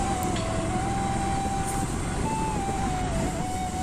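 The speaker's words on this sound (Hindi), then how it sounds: "ये टोटल एम्बुलेंस लगा हुआ है बगल में।" Ambulance siren wailing in a steady rising-and-falling tone over the continuous rumble of heavy, jammed traffic on a rough road near a national highway, with truck and car engines droning close by throughout.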